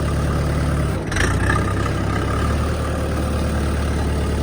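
A Kentavr DV tractor's engine runs steadily with a low rumbling drone, broken by a brief clunk around a gear shift, loud and close throughout.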